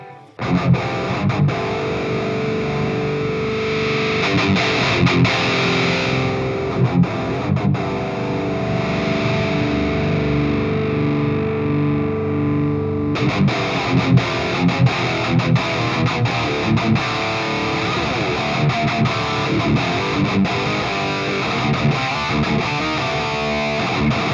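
An electric guitar played through a Marshall amp capture on a Mooer Prime P2 headphone amp sounds loud and distorted, with strummed chords and riffs ringing continuously, and a brief dip in the texture around the midpoint before it picks up again.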